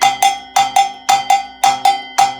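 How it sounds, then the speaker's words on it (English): A bright cowbell plays a repeating bembe bell pattern in six-count time, with sharp, ringing strikes in a steady lilting rhythm, loud and close with no other sounds. "there's another bell pattern that sometimes we play on a bembe"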